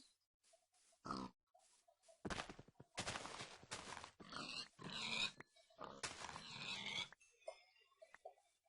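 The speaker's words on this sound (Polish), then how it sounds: "Zabijam świnie." Pigs in the video game Minecraft grunting and squealing as they are attacked and killed, a run of several loud, broadband bursts in quick succession with quieter gaps and small game noises between.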